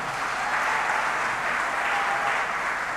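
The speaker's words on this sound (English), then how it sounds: "Can you give him a round of applause?" Steady, dense applause from an anniversary colloquium audience for a guest, a continuous even wash of many hands clapping throughout, moderately loud with no voices over it.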